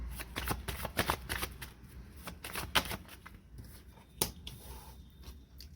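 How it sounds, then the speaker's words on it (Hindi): Tarot cards shuffled and drawn in a reading: rapid, crisp riffling bursts and flicks of cards close to the mic, in uneven clusters, with no talk. "वन मोर कार्ड हम निकालते हैं।"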